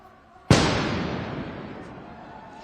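A single loud firework boom let off in a street during a riot in Atlanta, a sharp nearby blast followed by a long rumbling decay, with faint distant pops afterward.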